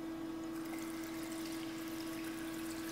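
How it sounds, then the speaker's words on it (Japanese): A river flowing near home, captured as a field recording, gives a steady broadband wash of running water with a constant tone and no talk. "こういう川の流れの音やったり"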